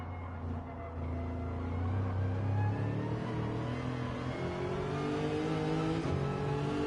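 A car engine revs in the Gran Turismo 7 racing game at Daytona, sustained and loud, its pitch climbing and shifting steadily as the car accelerates, with no talk.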